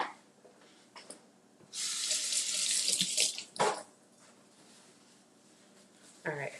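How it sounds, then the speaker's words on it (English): Tap water runs into a kitchen sink over a handful of cherry tomatoes, a loud rushing stream for over a second amid quieter handling sounds, with a brief spray of water near the end. "I have a handful of cherry tomatoes and I'm rinsing only the ones that are going on my salad"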